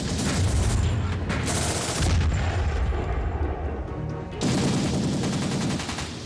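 Heavy naval cannon fire from a warship booms in bursts, broad blasts of sound at the start, around two seconds and again after four, with rumbling echo between.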